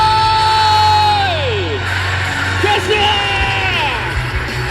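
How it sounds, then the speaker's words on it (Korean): A large crowd of students at a university festival cheering event at Sun Moon University shout, whoop and yell loudly together, sustained rising and falling voices filling the space with steady crowd roar underneath. "우리 선문대학교 소리 질러"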